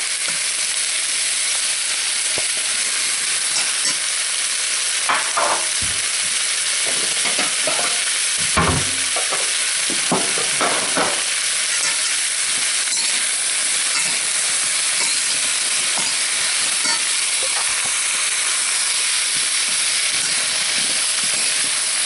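Garlic butter stir-fries in a very hot pan with a loud, continuous hissing sizzle, broken now and then by brief scrapes and clacks as the food is tossed.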